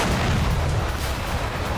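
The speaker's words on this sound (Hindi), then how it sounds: "120 mm मोर्टार से दुश्मन पर हमला किया है।" A 120 mm mortar fires in the field, a dense, loud low boom with rumbling blast noise that fills the short moment without voices.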